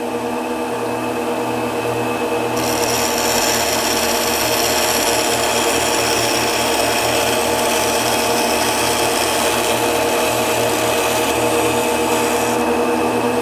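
A Gemini Taurus 3 diamond ring saw cuts steadily through a workpiece with a continuous motor whine and a grinding rasp that grows brighter partway through, then eases back near the end.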